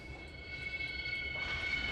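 A train runs in the Trainz 2022 railroad simulator, producing a low, steady rumble of rolling stock with faint tonal engine hum throughout, gradually growing a bit louder near the end.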